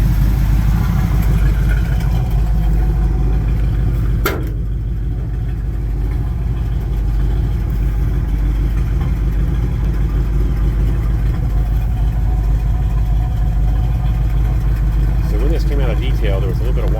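A 1968 Camaro with a 350 V8 and 700R4 automatic runs loud and steady while driving, a deep continuous engine drone with one brief click partway through and no talk.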